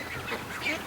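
Ducks on the water give a brief burst of honking, nasal calls, close and fairly loud, with one or two overlapping cries in under a second.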